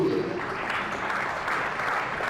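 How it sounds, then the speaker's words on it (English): Crowd at a county championship cricket match between Glamorgan and Leicestershire applauding a batsman's milestone, a brief, moderately faint patter of clapping spread across the ground. "And deserved applause."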